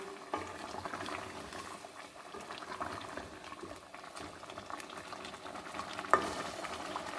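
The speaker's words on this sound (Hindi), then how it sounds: "इसको हम 5 से 7 मिनट के लिए अब पका लेंगे ढक्कन लगा के।" Chicken korma with spices bubbles and simmers softly in a covered pot, a steady faint sizzling and bubbling with a small clink near the end, with no talk.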